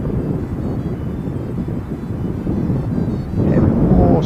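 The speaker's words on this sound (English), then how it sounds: "This is Qantas 191 coming in from Sydney." Qantas flight 191 airliner arriving from Sydney, a steady broadband jet roar heard outdoors with wind buffeting the microphone, swelling louder near the end as the aircraft approaches.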